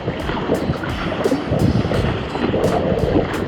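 A surfboard is paddled through icy slush in cold winter surf, with a steady loud wash of churning water and wind rushing over the microphone, and no voices.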